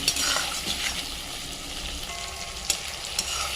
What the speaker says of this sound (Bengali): ভালো করে নরম করে পেঁয়াজটা ভাজতে হবে, তাই টমেটোটা দিয়ে দিলাম